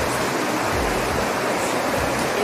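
Close and loud, river water rushes continuously past in Sedona, Arizona, an even, unbroken wash of flow throughout with no speech.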